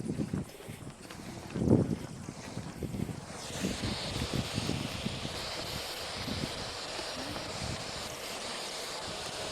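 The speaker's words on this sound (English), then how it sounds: "Here's some wind." Wind gusting across an outdoor microphone, a rough roaring rush that starts with uneven buffeting thumps and then settles into a steady, broad hiss for the rest of the stretch.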